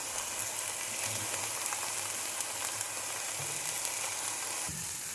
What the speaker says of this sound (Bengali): মশলাটা ভাজা ভাজা হয়ে এসেছে